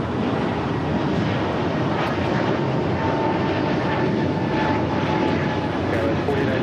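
Airliner taking off at LAX, a loud, steady engine roar close by that fills the scene without letup, with faint voices barely audible underneath.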